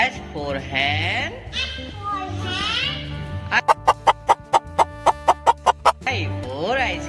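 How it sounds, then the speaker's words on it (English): A hen clucks about a dozen times in quick, even, rhythmic pulses. Sung voices with a musical backing come before and after the clucks in a children's alphabet song. "H for hen"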